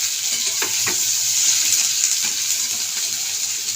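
Potatoes fry in a pan with a steady, close sizzle while a utensil stirs them, giving a few soft scraping knocks over the constant crackle; no voices.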